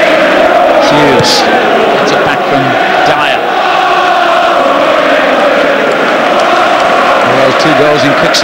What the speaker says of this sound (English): Two goals in quick succession have really lifted the crowd here at both ends of the stadium.